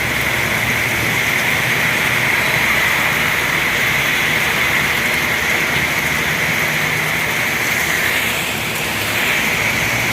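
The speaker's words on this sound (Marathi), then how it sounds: "एक तासभर कोसळलेल्या मुसळधार अवकाळी पावसामुळे शहरात पाणीच पाणी" Heavy unseasonal downpour over the market yard area of Karad, a dense, even roar of rain that holds steady throughout and dips briefly near the end, with no voices.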